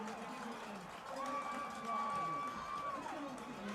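A crowd at a Colgan Sharks high school football victory over Forest Park makes a distant, steady roar of cheering and chatter, with an announcer talking over it.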